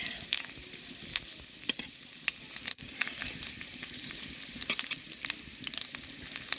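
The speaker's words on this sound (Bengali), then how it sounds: "কলা পাতাগুলো ফুটছে দেখুন।" Banana leaves sizzle in hot oil on a griddle while jackfruit is being cooked, giving a steady crackling hiss with scattered sharp pops and light patter throughout.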